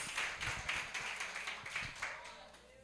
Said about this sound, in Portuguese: Aplaude Jesus bem forte